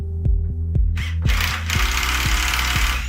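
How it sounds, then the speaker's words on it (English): A shear-bolt cable lug being tightened on a conductor while fitting a 3M cold shrink QT-III silicone rubber termination gives a close, steady train of heavy rhythmic thumps. A loud burst of grinding, rattling noise joins partway through. "Shear the bolts."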